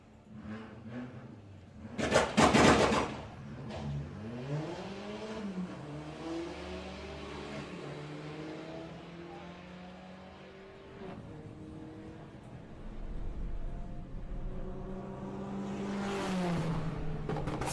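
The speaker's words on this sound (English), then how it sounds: "Nigel Gregson has ditched his current car and has switched over to this Golf GTI" A VW Golf GTI launching at a Santa Pod drag strip: a sharp revving burst, then the engine pulling hard through rising and falling gear changes as it recedes, with another rev surge near the end.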